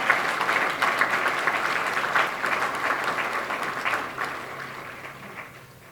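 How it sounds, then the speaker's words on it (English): An audience at a township address applauds the department heads with a steady wash of many hands clapping that slowly tapers off toward the end. "just give them a round of applause"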